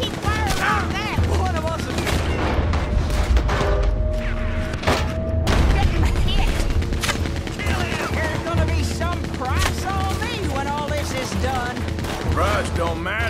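Rapid gunfire from a Gatling gun in the Red Dead Redemption video game, a dense sustained burst of shots and booms running under frequent talking across the whole stretch.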